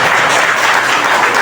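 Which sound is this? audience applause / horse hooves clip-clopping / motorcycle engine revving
audience applause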